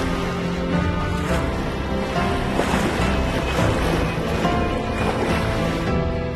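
Motors hum aboard a sailing ship crossing an unusually calm sea, a steady, even drone blended with the soft rush of water along the hull, with no voices.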